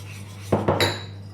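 Spoon or whisk clinking against a bowl while mixing chocolate cake batter with flour, a pinch of salt and baking powder; two or three quick close scraping knocks over a steady low hum.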